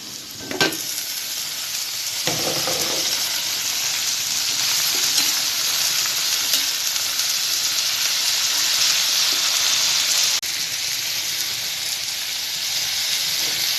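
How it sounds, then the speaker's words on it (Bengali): Coriander leaves frying in a pan for a bhorta, a loud continuous sizzle and hiss with a few stirring knocks near the start; no voices. "আমার ধনে পাতা ভর্তার জন্য ভাজা হয়ে গেছে"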